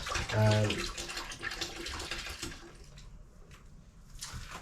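Water sloshing in a bucket of Star San sanitizer holding PET bottles and screw caps, a close splashing swirl that fades to a quieter trickle and drip.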